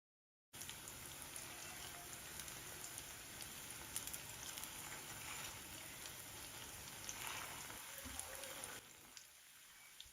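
Chicken snacks fry in hot oil until golden, giving a soft, steady crackling sizzle that runs for most of the stretch and then drops away, faint and continuous.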